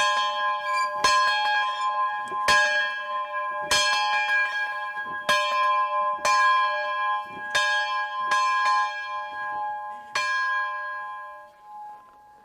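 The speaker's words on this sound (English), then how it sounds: "Here's the first bell in the tower. There'll be many bells. I'm gonna ring it a little bit." A church bell in a castle tower is struck by hand, about eight loud, close clangs at uneven intervals, each ringing out with a long shimmering decay before the last fades away.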